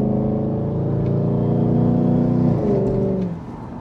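A Jaguar with a normally aspirated 4-litre V8 and a Stage 2 Adder mesh exhaust holds a deep, throaty burble that builds slightly, then the revs fall away and the note drops and softens near the end, close and loud with no talking.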